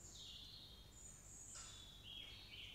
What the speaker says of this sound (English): Do we want the bird song keeping going?